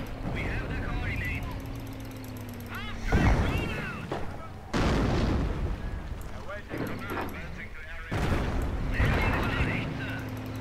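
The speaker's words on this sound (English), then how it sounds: "Careful, they have a lot of mortars." Mortar shells thud and explode in a Company of Heroes battle, several heavy booms rising over continuous game noise and engine drone while players talk throughout.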